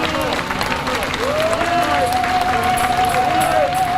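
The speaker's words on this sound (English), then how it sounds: "we should have a hand clap for" A crowd at a university protest claps in a dense, steady wash while voices shout and chatter over the top, loud and close throughout.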